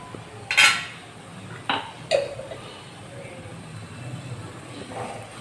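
Metal spoon clatters and scrapes against a pan while stirring curry with ginger garlic paste, a few sharp clinks spaced over several seconds against quiet kitchen background.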